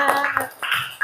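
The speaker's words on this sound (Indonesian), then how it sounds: "Tepuk tangannya." A classroom of pupils clapping their hands in a short burst of applause, a few quick, uneven rounds of claps up close with no talking.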